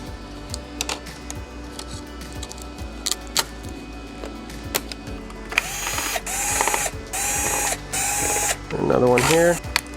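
Power drill whirring in short bursts as it backs screws out of a Sony XBR-65X900C 4K TV, several rising and falling whines in a row with clicking, ratchet-like handling noise in between, close up.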